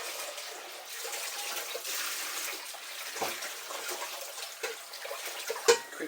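A saucepan being rinsed under a running tap, a soft continuous splash of water with a few light clinks and knocks from the pan near the end.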